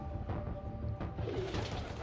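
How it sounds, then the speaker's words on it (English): A pigeon or dove coos close by in a steady, low rhythm over a busy, noisy outdoor background, with no voices. "Oh, yeah, I can actually see the actual bird now."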